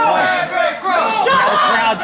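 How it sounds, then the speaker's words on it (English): A wrestling crowd at an independent show roars and shouts to rally a wrestler, a loud, close wall of mixed cheering voices and chatter. "Now the crowd trying to rally Everett Cross."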